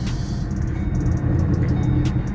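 A modified 2014 Shelby GT500 idles with a loud, steady low rumble, continuous throughout with a few faint high clicks above it and no talking.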